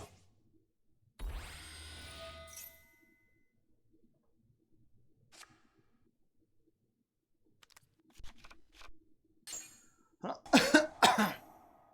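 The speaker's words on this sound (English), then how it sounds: "Cough, cough." Several sharp coughs, a burst of harsh coughing early on and a cluster of louder, closer coughs near the end, with quiet gaps between.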